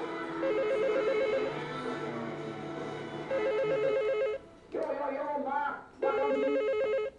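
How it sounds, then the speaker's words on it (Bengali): A telephone bell rings in repeated bursts, loud and close, over a busy background of other sound and voices, with a brief break before the ringing resumes. "এই সাউন্ডটা কমিয়ে একটু ফোনটা ধর যা।"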